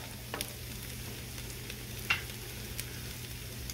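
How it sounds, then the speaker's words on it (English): Gravy boiling on a Blackstone cast iron griddle gives a steady, close sizzle and bubbling hiss with a low constant hum beneath, broken by a few soft clicks and taps. "now that this gravy is to the point of its boiling"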